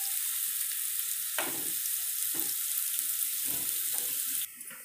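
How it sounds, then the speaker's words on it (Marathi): Chopped onions sauté in a pan for okra masala, giving a steady bright sizzle with a few soft stirring scrapes, close and alone. "आता याला परतून घ्यायचं आहे"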